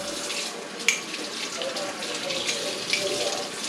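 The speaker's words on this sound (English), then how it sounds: "Now we'll give it a rinse." Warm water runs steadily from a tap over a cleaned black powder revolver barrel, a close continuous splashing rush with a couple of small clunks.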